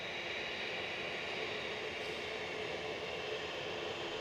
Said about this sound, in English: as you can probably hear in the background, an ATR, one of 11 turboprop movements expected in the show